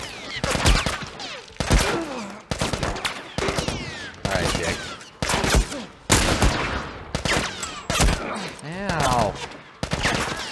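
Rapid bursts of gunfire from The Last of Us video game, loud repeated volleys with short pauses between them and some game effects, with no talking.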